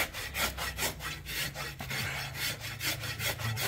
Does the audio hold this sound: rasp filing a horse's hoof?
yes